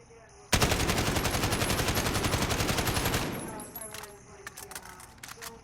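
An AK rifle fires in the video game Modern Warfare, one loud, unbroken full-auto burst of nearly three seconds that cuts off into a fading tail and a few light clicks.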